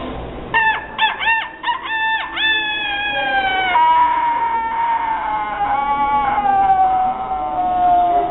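A woman imitates a cat, giving a few short choppy calls and then a long, drawn-out meow that slowly falls in pitch, loud and close with no other voices.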